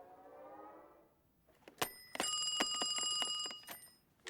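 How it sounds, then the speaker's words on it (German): An electronic phone ring in a Swiss German dub of an animated film sounds in a bright, repeated trill after a short stretch of quieter voice, with several rapid tones pulsing close by. "Das Telefon läutet sich immer selber an."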